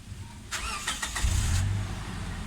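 Toyota Fortuner engine briefly revved during a gauge test: a short mid-pitched surge rising then settling toward idle, heard fairly close with no talk.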